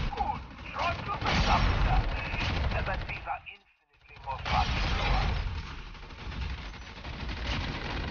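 Rapid gunfire from Call of Duty Mobile in zombies mode, with dense, loud bursts of shots filling most of the stretch, a brief lull near the middle, then more sustained firing.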